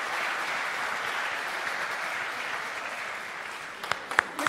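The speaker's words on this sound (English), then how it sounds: "Keep clapping." A crowd applauds steadily at an outdoor sundown service at a youth camp, a continuous wash of clapping that thins near the end into a few louder separate claps.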